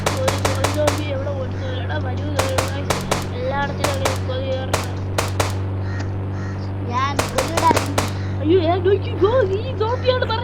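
A zombie-shooting video game fires guns in sharp repeated bursts, some in quick clusters, over a steady low drone, while a person talks over the shooting.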